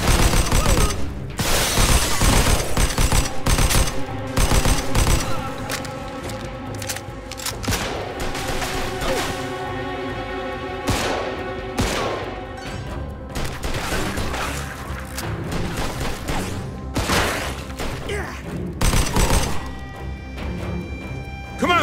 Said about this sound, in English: They're shooting from up top!